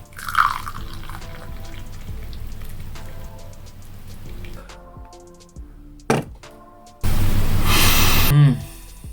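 Hot, strong coffee being poured, a trickling, dripping stream with light splashes and a few clunks, close by, ending in a louder burst of noise.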